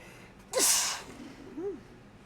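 A single sharp sneeze bursts out close to the microphone, followed by a brief breathy gasp and a softer vocal sound as it fades.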